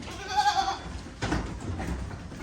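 A stall-fed goat on a Karnataka farm lets out one short bleat nearby, followed by shuffling and rustling noises from the pen.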